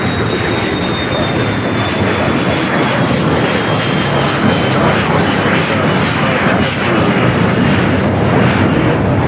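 A Challenger 300 business jet takes off at LAX with a loud, continuous roar and a thin high whine that slowly falls in pitch, heard alone.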